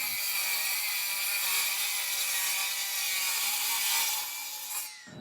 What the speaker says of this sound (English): I'll measure and cut the deck boards ahead of time using a chop saw